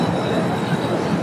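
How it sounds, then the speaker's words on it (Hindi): Overhead metro train on an elevated line in Delhi, a continuous rumbling roll of wheels on track, fairly loud and steady throughout the short moment. "ये ऊपर से मेट्रो लाइन भी गई हुई है,"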